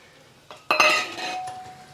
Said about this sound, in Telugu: ఇదిగోండి ఇది వేస్తున్న పోపు సిమ్లో పెట్టుకోండి